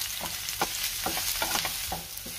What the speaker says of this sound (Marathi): कांदा 2 ते 3 मिनिटं मी चांगला परतून घेणार आहे।